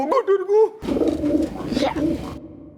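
A voice imitates a pigeon's soft warbling coo, followed by a burst of animated talking.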